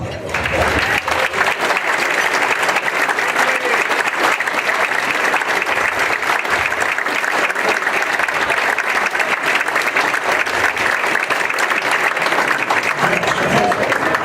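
A hall of people gives sustained, loud applause welcoming an inductee at a hall of fame ceremony, a dense, even roar of clapping that runs unbroken throughout, with a few voices faintly mixed in.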